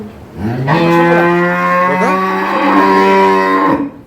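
A dairy cow on a farm moos loudly and close, one long drawn-out low bellow that holds steady for about three seconds before trailing off.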